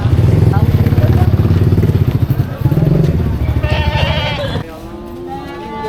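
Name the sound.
goats bleating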